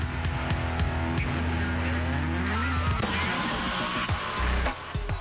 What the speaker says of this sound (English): there is nothing like the sound of a Hemi